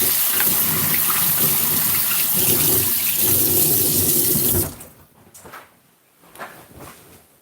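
Tap water runs steadily into a kitchen sink as raw chicken strips are rinsed for a crispy garlic recipe, a loud continuous gush that cuts off abruptly, leaving only faint splashes and drips.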